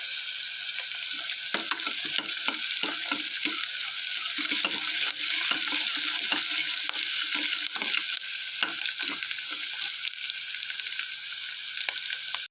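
Onions and cashews frying in a pan with tomato for methi pulao, giving a steady loud sizzle broken by rhythmic spoon stirring and scraping strokes.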